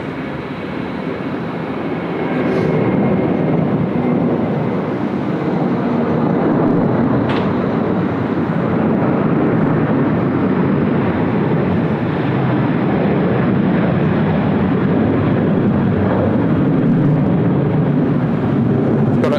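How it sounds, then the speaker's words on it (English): A loud, continuous Pratt & Whitney jet engine rumble at Sydney Airport, deep and steady throughout, building slightly early on and holding without any talking. "A very distinct rumble, the Pratt & Whitney engine."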